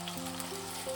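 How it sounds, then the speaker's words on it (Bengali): Potatoes with freshly added chopped tomato fry in a pan for beans and potato posto, a steady soft sizzle over a low hum, no voices. "আলুটা আমি মিনিট 2 একটু ভেজে নিলাম। এবার আমি দিয়ে দেবো একটা টমেটো কুচি।"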